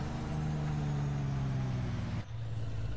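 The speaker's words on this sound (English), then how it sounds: "We have to hear this jake brake though." Truck engine in American Truck Simulator running with a steady low drone, cutting off abruptly near the end and resuming at a lower pitch, consistent with a jake brake engaging.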